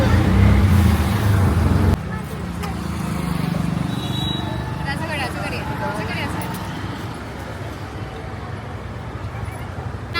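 Road traffic rumbles around a moving auto rickshaw on the way to a Vithoba temple, with a steady engine and road noise, distant vehicles and a brief horn, and people talking over it.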